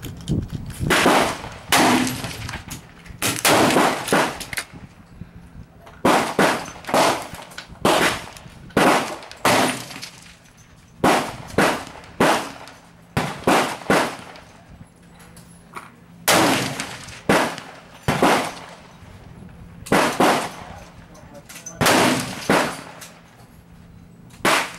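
Hatsan 135 .25 caliber air rifle fired over and over at targets out to 100 yards, each shot a sharp crack with a short ringing tail, spaced a second or two apart in loose groups.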